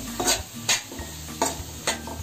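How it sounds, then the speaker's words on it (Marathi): Green bean pods and onions are stirred in a hot pan, with rhythmic scraping strokes of a spoon against metal over a soft sizzle, close and loud. "ह्या परतून घेऊया ह्या कांद्याबरोबर"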